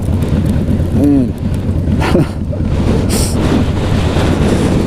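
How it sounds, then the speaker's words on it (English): Strong gusting wind roars steadily against the microphone while riding a 2017 Harley Softail Slim through a sandstorm in El Paso, Texas, with a brief voice heard over the loud buffeting. "I just have to fight the wind when I'm standing still"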